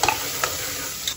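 Chopped onion frying in hot oil for a prawn curry, a short close burst of hissing sizzle with a few stirring scrapes, no talk.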